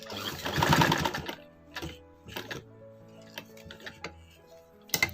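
Sewing machine stitching the collar band of a men's kurti, a dense close burst of rapid needle strokes followed by short separate stitching runs and clicks, with no voices.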